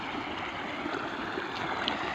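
Irrigation water gushing steadily into a castor crop field, a close, continuous broadband rush of flowing water with no talk over it.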